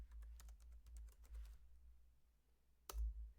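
Rapid keystrokes on a computer keyboard while entering labels into an Excel spreadsheet, a dense run of close clicks for about a second and a half, then a pause and one final louder key press.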